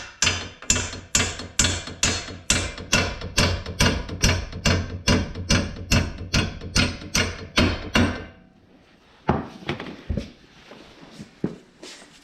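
Hammer tapping a bolt into a Ford Fiesta ball joint, around twenty evenly spaced sharp metallic strikes up close, then a quieter stretch with a few scattered knocks.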